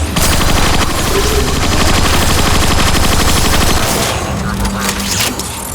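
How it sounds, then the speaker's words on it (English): Rapid automatic gunfire in Transformers: Fall of Cybertron, played on PC, rattles continuously and loudly for several seconds before easing off near the end. "Just shoot some cons already!"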